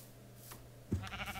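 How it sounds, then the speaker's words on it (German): A single short Minecraft sheep bleat rises out of a quiet background, fairly faint and alone, with no talking. "Oh, Schafe."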